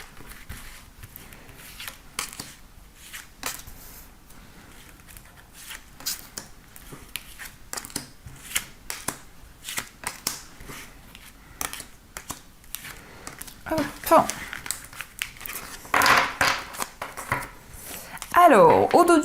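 Tarot cards are shuffled and drawn in a quiet room, first as soft scattered taps and slides, then as denser shuffling and card handling near the end. French speech runs over the card sounds.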